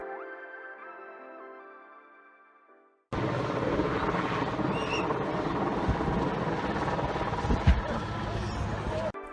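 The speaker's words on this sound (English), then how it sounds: "This helicopter drops a big car." A helicopter flies while dropping a big car, its loud steady rotor and engine roar starting abruptly after a stretch of quieter music, with a brief thump near the end.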